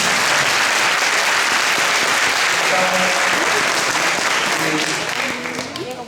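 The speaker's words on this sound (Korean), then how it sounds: "우리 설명해 주신 선배님께 다시 한번 큰 박수" Big round of applause from high school students at a Korean Military Academy information session, clapping for a senior who gave the presentation. Dense, loud clapping runs for several seconds, then thins out, with faint voices near the end.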